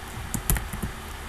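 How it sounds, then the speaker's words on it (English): A computer keyboard being typed on while option values are entered, giving a few quick, close, quiet key taps with one slightly louder clack in the middle, with no voices. "you just type in the option values, you just type in what those sizes are"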